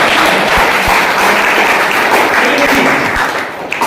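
An audience in Pratapgarh, Uttar Pradesh, India, claps for itself, producing a sustained, dense burst of many hands that stays loud and even before tapering slightly at the end.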